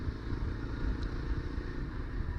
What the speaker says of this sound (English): the engine note as I go through the gears here, it is quite different, quite muted